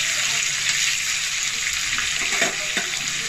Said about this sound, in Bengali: এবার 2 থেকে 3 মিনিট ভালো করে এইভাবেই নেড়ে চেড়ে আমি পটলটাকে লাল লাল করে ভেজে নেব